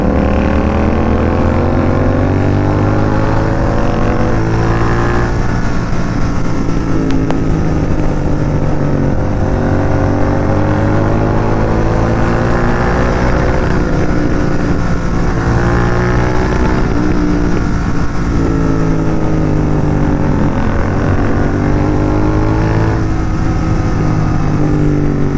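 A Royal Enfield Continental GT 650 twin rides at night, its loud, raw exhaust droning steadily up close, with rising and falling revs across gear changes and wind buffeting the microphone throughout.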